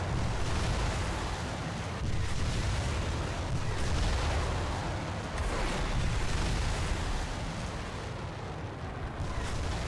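Weapons launching from SAM sites in a combat video game, a dense, steady roar of firing and rumbling blasts that runs unbroken for the whole stretch, loud and without talk.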